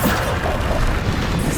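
A Bombarda explosion spell bursts in Hogwarts Legacy, a loud, dense, rumbling blast that fills the whole short moment, heavy in the low end.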